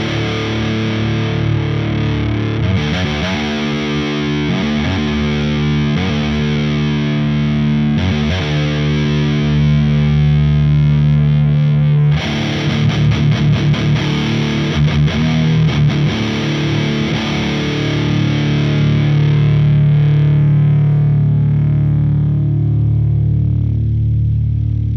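Heavily distorted electric guitar through an Audio Assault Amp Locker high-gain amp sim plays chugging riffs and sustained chords, loud and continuous, with no talking.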